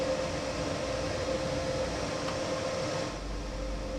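Train running in Train Sim World 4: a steady, close rumble and hum of the locomotive with a constant tonal whine, easing slightly toward the end, no voices.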